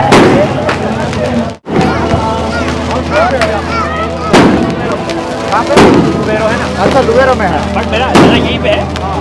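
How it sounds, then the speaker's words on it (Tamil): Firecrackers go off in sharp, scattered bangs at a Diwali celebration amid a loud, busy crowd with talking voices throughout. "இந்த வெடி இவ்வளவு வெடி பார்த்தா எப்படி என்னால பேச முடியும்?"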